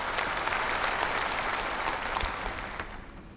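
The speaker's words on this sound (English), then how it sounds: "please applaud for the approval" A hall of political advisory body members applauds to approve a session agenda: dense, continuous clapping from a large crowd that fades slightly at the end.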